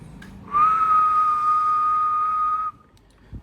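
A whistle tone from a Yaesu FT-2000 HF transceiver in USB mode, one steady high pure tone lasting about two seconds, loud and clear over a faint background hiss, cutting off abruptly.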